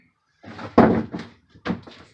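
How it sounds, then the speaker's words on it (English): A painting stool tips over onto the floor of a 1974 Silver Streak trailer bathroom under renovation, giving a few hollow knocks and one heavier thud in quick succession, fairly close. "Sorry, knocking my stool over."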